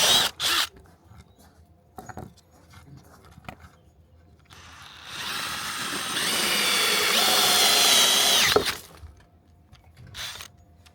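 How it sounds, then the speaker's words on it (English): A power drill with a step drill bit whirs into metal for a few seconds, a steady loud grinding whine that cuts off abruptly, with clicks and clunks before and after. "so unfortunately we haven't got a 10mm drill bit, but we've got a step drill and we've got a 12mm, so step drill it is"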